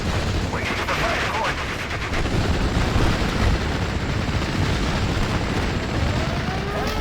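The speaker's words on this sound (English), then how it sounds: "What you saw me do there was just spread out as much artillery as I could." Artillery fire in the World War II strategy game Steel Division Normandy 44 rolls on as a dense, continuous barrage of booms and crackling gunfire, loud and sustained throughout.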